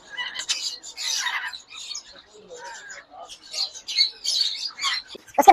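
Rosella parrots for sale at a bird market, a string of sharp bright squawks and chirps coming in short bursts with brief gaps, fairly close and clear.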